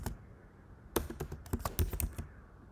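Someone types on a computer keyboard while writing Django code: a brief key tap, then after a pause a fast, irregular run of close, crisp clicks and clacks that stops abruptly.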